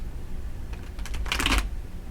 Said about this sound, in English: let's go ahead and shuffle up these cards